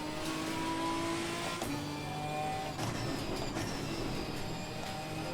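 Race car engine in the ACC GT4 racing game, revving with sharp pitch drops and crackling pops on downshifts, loud and continuous with layered engine tones and no talking.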